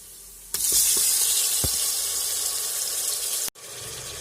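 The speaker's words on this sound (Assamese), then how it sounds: "পিঁয়াজখিনি কুক হৈ যায় এতিয়া আমি মাংসখিনি দিম ইয়াতে" Chicken meat drops into a hot pan of fried onions for Assamese-style chicken biryani, setting off a sudden loud, steady hiss of sizzling that holds for about three seconds before cutting off.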